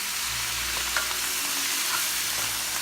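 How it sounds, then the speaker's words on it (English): Thinly sliced chicken breast and vegetables sautéing in a pan with fish sauce and wine, giving a steady, loud sizzle throughout with faint stirring scrapes and no talk. "we'll saute this for 2 minutes or 3 minutes"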